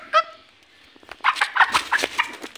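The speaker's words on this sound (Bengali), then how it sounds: "তো এই যে কক কক কক কক" A desi chicken clucks up close, starting with one short call and then, after a pause, giving a quick run of several clucks.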